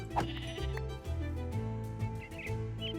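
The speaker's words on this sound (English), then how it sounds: "What if I kill this sheep?" Sheep bleating in the Minecraft video game, a few short cries repeating over game sounds and background music at moderate loudness.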